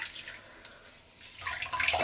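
Dyed raw suri alpaca fiber is lifted out of a water bath, giving soft dripping and splashing that swells louder toward the end, close by with no talk.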